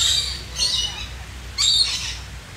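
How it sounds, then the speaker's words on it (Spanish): Parrots perched high in trees in Bonita Springs give harsh, raspy squawks in two bursts, moderately near over a quiet outdoor background. "Miren, aquí hay unos loritos. Loritos, loros en inglés. Parrots."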